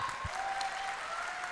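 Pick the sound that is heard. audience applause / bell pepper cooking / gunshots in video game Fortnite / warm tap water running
audience applause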